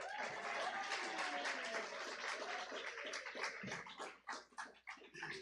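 A church congregation applauds the grandparents, with a dense patter of clapping that thins into scattered claps toward the end and faint voices mixed in, heard at a distance.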